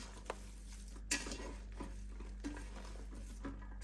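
Stuffing being stirred in a slow cooker pot, quiet soft scrapes and a few sharp clinks of a utensil against the pot at irregular intervals over a low steady hum.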